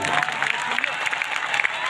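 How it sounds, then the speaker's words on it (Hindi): An audience at a live motivational speech event breaks into dense, steady applause, a continuous crackle of many hands clapping at once. "एक जोरदार तालियां होनी चाहिए"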